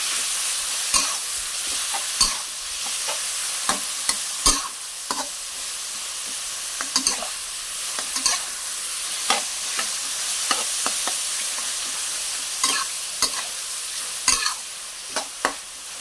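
Marinated pork stir-fried in a pan, with a steady close sizzle broken by frequent sharp scrapes and knocks of a spatula against the pan, and no talking.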